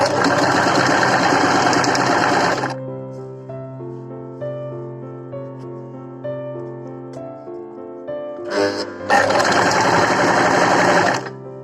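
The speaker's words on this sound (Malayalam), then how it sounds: "നമ്മൾ സൂചി താഴ്ത്തി ലിവർ താഴ്ത്തി അവിടുന്ന് സ്റ്റിച്ച് ചെയ്ത് പോയി" Sewing machine stitching a simple sleeve onto a dress, a steady loud whirring run that stops, leaves a quiet pause with a low hum, then starts again in another close, continuous burst.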